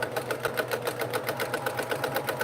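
A sewing machine quilting a small swirl, a fast, even mechanical stitching chatter, close and steady with no pause.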